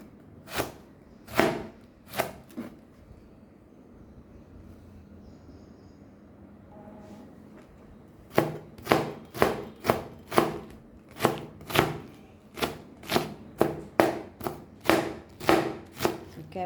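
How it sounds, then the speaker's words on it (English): Knife chopping vegetables finely on a board for a crunchy mango salad: a few sharp cuts, a quiet pause, then a quick steady run of close, loud chops in even rhythm, with no talk. "So now let's cut this very fine."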